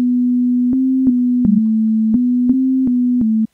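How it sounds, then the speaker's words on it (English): A pure, steady default sine-wave tone from the Sytrus synthesizer, holding one low pitch with slight shifts, punctuated by small periodic clicks, then stopping abruptly. "just starts off at default with a sine wave"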